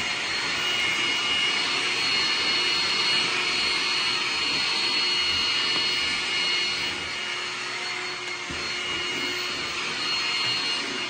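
A Makita 36V backpack vacuum cleaner runs continuously on carpet, producing a loud, steady whine and rushing airflow up close.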